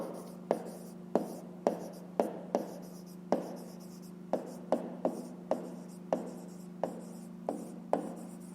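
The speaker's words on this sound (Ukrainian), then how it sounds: "Ну і пишемо пояснення." A pen writing by hand on paper while working a fifth-grade maths exercise, close and dry: regular short scratchy strokes, roughly one each half second or so, over a faint steady hum.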